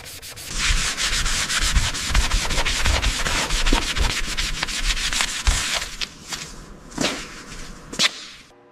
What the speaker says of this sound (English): getting into the sanding now. This mid-boiler section is heavily oxidized